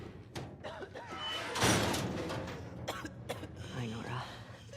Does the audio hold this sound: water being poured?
no